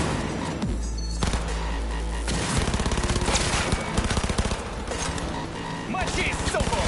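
Rapid gunfire bursts in the video game Cyberpunk on PS5, dense automatic volleys over a loud combat soundscape with explosions, while shouting voices call out through the fight.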